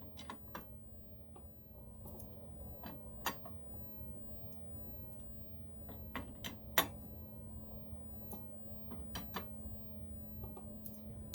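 Yamaha YZ490 engine piston being turned slowly by hand: faint, scattered mechanical ticks and clicks at irregular intervals over a low steady hum, quiet and close, with no voices.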